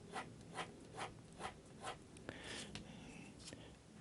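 Uni Kuru Toga mechanical pencil with Lamy HB lead drawing lines on paper, a quiet scratchy stroke repeated about five times in a steady rhythm, followed by a few softer irregular scribbles, close and faint.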